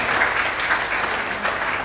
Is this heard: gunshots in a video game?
no